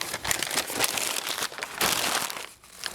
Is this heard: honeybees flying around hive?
no